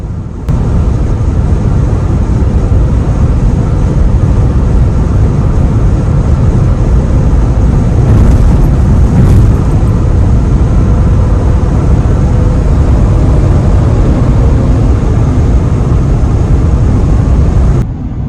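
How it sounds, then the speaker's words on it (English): Steady, loud wind rush fills the cabin of a Tesla Model Y cruising on a smooth highway, a constant broadband roar with no tire noise standing out. "the only thing you can hear is wind. I don't hear the tires at all."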